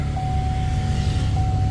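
A Chevy Express van engine idles with a loud, steady low rumble and a thin whine held throughout, close by, with no talking.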